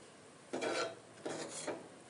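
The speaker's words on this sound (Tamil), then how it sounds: "நெய் நல்லா காஞ்சதுக்கப்புறம் துருவன தேங்காய்" Grated coconut is stirred in hot ghee in a pan, giving two short, soft scraping bursts over a quiet background, with no voices.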